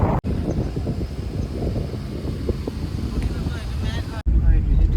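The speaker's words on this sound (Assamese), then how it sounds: "ঠাণ্ডা বতাহ মাৰি আছে" Cold wind roars steadily past the microphone on a foggy mountain road in Meghalaya, a dense continuous low rumble with faint rustling throughout.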